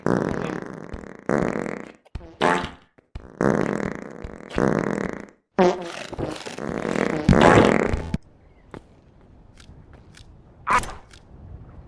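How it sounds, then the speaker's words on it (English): Cartoonish fart sounds in the video game Animal Company come in a loud series of long, buzzy blasts and shorter bursts, followed by fainter clicks and one last sharp burst. "Watch how far I can fart."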